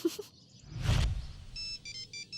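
A mobile phone ringtone rings in short repeated electronic bursts after a rustle and a thump, fairly clear with no talk over it.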